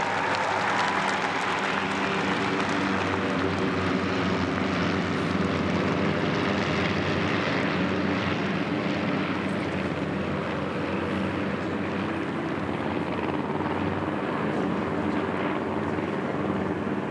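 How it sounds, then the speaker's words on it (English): Aircraft flying past at the Vimy Ridge 100th anniversary commemoration, a loud continuous engine roar that holds steady throughout, with crowd noise underneath. "Those aircraft will fly around."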